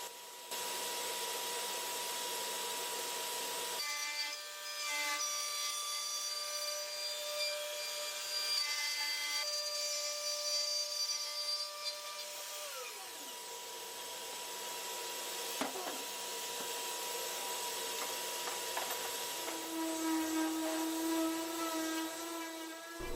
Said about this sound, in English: now we're going over to marking out and routing the holes for the front and rear firing tweeter and the little small mid-range driver on the front